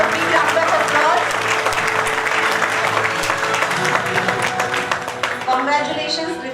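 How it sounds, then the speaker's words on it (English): An audience at an international conference on dissolution testing and bioavailability applauds an award winner, a loud sustained clapping that holds steady and then tapers slightly toward the end, with some voices mixed in. "Please put a big round of applause."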